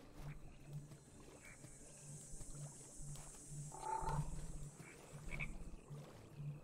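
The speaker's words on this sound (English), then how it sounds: "Hey, there's a lit up frog bouncing in front of me." Repeated croaking from a glowing frog in the Minecraft Betweenlands mod, low pulsing calls that recur over a murky wet ambience, with a louder burst of croaks in the middle and no speech.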